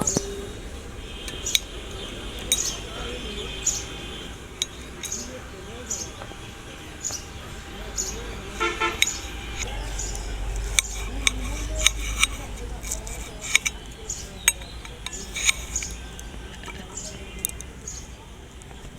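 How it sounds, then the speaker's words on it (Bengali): A knife cuts through a lemon for a lemon water drink, giving soft irregular clicks and taps against a cutting surface under quiet background noise. "এখানে লেবুটা এখন কেটে নেব"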